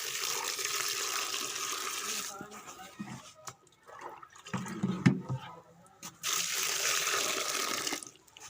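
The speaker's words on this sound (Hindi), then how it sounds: "अब तीसरी बार" Fresh spinach rinsed under a running tap, a steady hiss of water interrupted by splashing and handling of the leaves, with someone speaking briefly in between.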